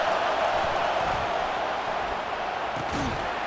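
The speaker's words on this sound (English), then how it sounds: "Listen to the crowd energy here in the early going." American football stadium crowd at Ohio State versus Oklahoma, a dense continuous roar of many voices filling the space at steady volume with no pauses.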